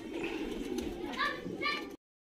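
Saharanpuri pigeons coo softly nearby at night in low, throaty bursts, with children's voices faintly in the background before the sound cuts off.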